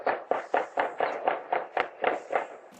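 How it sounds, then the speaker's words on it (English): A rapid string of about a dozen sharp gunshots in steady succession, sounding somewhat distant and muffled, recorded from outside by a Ring doorbell camera. "this Ring camera video that captured the sound of gunfire"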